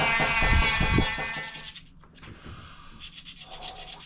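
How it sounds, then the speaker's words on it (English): A Dremel rotary tool sands thin pieces of scrap wood with a loud, dense gritty whir for about a second and a half, then drops to quieter, intermittent scraping. "nicely sanded. Good old Dremel."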